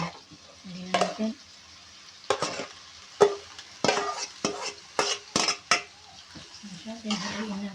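Boiled mung beans are stirred into a sizzling pan, with soft intermittent scrapes and clinks of a utensil against the pan over a faint sizzle.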